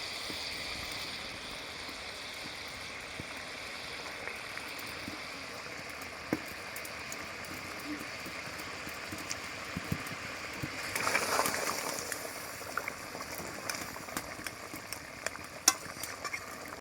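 Fried koi fish (Bengali tel koi) going into a pan of mustard-oil curry, giving a steady, soft, low-level sizzle throughout with a brief louder burst of frying near the end.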